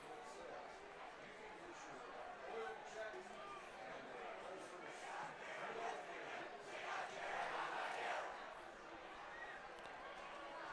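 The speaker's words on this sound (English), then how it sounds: "Starting a chant and booing in the stands." Stands at a high school boys soccer match, Aquinas vs. St. James, fill with a distant, faint crowd roar of chanting and booing that swells and fades in waves.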